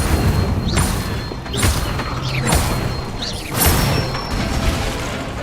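Spell-casting effects from the video game Hogwarts Legacy: four or five whooshing bursts with bright crackling swishes, spaced about a second apart over a dense mechanical rumbling bed.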